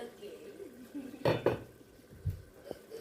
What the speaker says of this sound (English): just go ahead and cover the pot and let it simmer for 2 good minutes